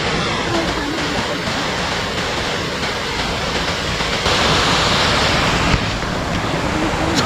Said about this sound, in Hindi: इधर तो पानी के गिरने की आपको आवाज़ सुनाई दे रही होगी